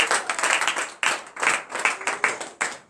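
Congregation at a morning prayer service in Benin clapping in acclamation, a close, lively run of rhythmic hand claps in uneven bursts with brief gaps.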